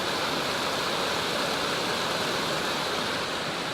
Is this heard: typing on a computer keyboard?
no